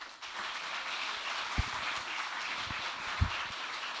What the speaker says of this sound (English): please again give a very warm applause to Eugene Yelchin